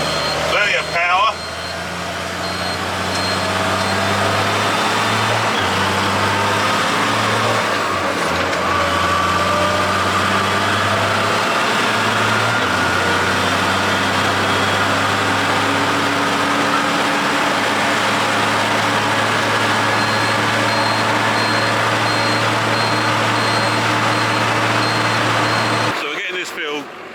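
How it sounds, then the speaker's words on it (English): An old Fastrac tractor engine drones steadily while driving on a bale-carting job, a continuous low, even rumble with a voice talking over it at times. "So lovely to drive now, the old Fastrac."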